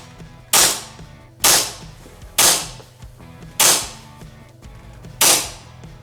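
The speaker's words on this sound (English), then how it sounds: "I'm gonna run these through a couple of shots on semi" Five sharp, loud semi-auto shots from an Action Army AAP-01 Assassin gel blaster pistol, evenly spaced about a second apart, each a crisp crack with a brief decaying tail over quiet background.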